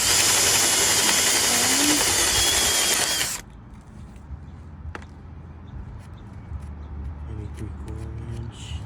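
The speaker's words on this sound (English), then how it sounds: "we're gonna do the countersink" A power drill countersinks screw holes in raised garden bed wood, a loud whirring grind for a few seconds that cuts off abruptly, followed by quiet with faint clicks and handling sounds.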